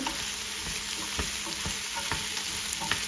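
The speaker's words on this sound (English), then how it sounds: "Go ahead and give that a stir" Soup being stirred in a pot, with a utensil scraping and clinking in a steady, uneven rhythm over a soft continuous simmer, close and moderately quiet.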